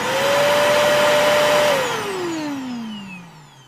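Vacuum cleaner at work on a living-room floor, its motor droning loud and steady up close before the pitch sinks and the whir winds down toward the end.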